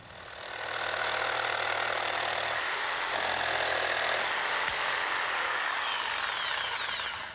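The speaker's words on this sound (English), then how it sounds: "my jigsaw, set up with a nice fresh blade, does a real good job cutting out that notch" Jigsaw with a fresh blade cutting a notch in a wooden leg about an inch thick: a loud, close, continuous buzzing rasp of the reciprocating blade that starts up, holds steady for several seconds, then winds down, with no talking.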